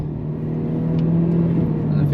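A high-mileage VW Golf 4 GTI with about 321,000 km and a check-engine light pulls hard on a Nürburgring lap, its steady mid-pitched engine note droning close and loud beneath talking voices.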